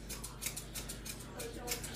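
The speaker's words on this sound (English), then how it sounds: "scissors straight up." Scissors snip through a dog's fur during a grooming trim of the mohawk over the eyes, giving a quiet run of small repeated cuts at a steady, fairly quick rhythm, close by and soft.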